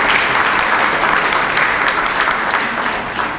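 Sustained applause from an audience at a book dedication event, dense and loud clapping throughout that tapers slightly toward the end, with a faint murmur of voices beneath.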